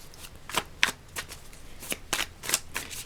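A deck of tarot cards gets shuffled close up, a handful of soft, crisp papery flicks spaced a fraction of a second apart over a quiet background, with no talking.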